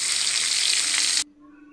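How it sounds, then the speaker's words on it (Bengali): Bitter gourd sizzles in hot oil in a wok with a loud, steady hiss that cuts off abruptly after about a second, leaving only a faint low hum. "আমি এই করলাগুলো কড়াইয়ের মধ্যে তেল গরম করে দিয়ে দিয়েছি"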